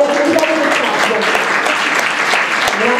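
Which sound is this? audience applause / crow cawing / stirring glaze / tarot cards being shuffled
audience applause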